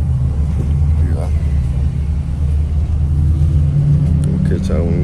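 Low steady engine rumble heard from inside a school bus, a constant near drone with muffled voices and chatter over it.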